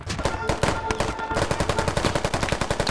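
Automatic gunfire rattles in rapid, regular bursts in the military shooter Squad, loud and close, with a steady rhythm of sharp shots.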